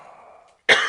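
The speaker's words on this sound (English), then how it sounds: "Let me just do a dramatic cough first between the dramatic pauses." Deliberate dramatic cough from a man, a single sharp, loud close cough bursting out after a faint hum and a brief silence.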